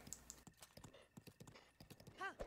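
Horse hooves clip-clop in a steady, fairly close trot in The Legend of Zelda: Breath of the Wild, with a brief whinny near the end and someone talking over the hoofbeats.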